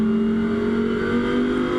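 GT race car engines drone steadily at an FIA Motorsport Games race as the cars cross the line, a loud sustained roar without clear individual passes.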